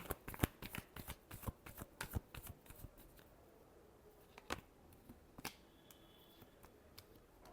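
Tarot cards are shuffled close by in a quick series of crisp riffling flicks, then a few sparser snaps and taps as the deck settles.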